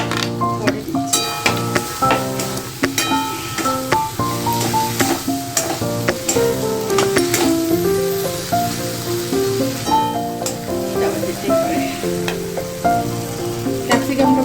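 Potatoes are added to spice paste frying in a pan for a Bengali paneer capsicum dish, giving a steady sizzle beneath prominent background music.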